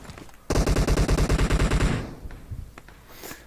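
Rapid automatic gunfire in PUBG Mobile, a loud sustained burst of evenly spaced shots lasting about a second and a half, followed by fainter scattered shots and background noise.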